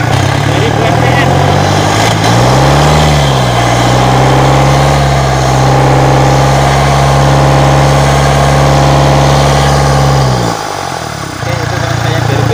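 A Toyota Innova diesel engine idling, a loud, close, steady low rumble that wavers briefly as revs shift early on, then holds even before a small dip near the end.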